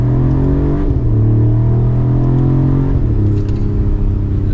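A 2024 Mercedes-Benz CLE450 coupe with its exhaust in sport mode accelerates hard from second gear, engine drone climbing steadily with a brief dip at each paddle upshift, heard loud and close from inside the cabin.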